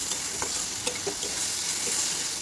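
Ivy gourd mash stirred in a pan until dry, with a steady soft sizzle and a few scraping strokes of a spoon along the bottom, close and alone.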